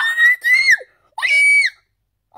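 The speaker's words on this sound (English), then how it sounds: "the first time I've actually screamed so loud" A person screams loudly in excitement while opening a Pokémon Shining Legends Elite Trainer Box, giving two long, shrill bursts with a short cry after, close and alone with no talking.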